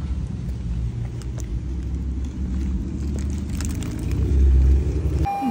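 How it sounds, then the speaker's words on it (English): Steady low rumble of a car interior while driving, road and engine noise filling the cabin at an even level with a slight swell near the end; no talking. "We're back in the car."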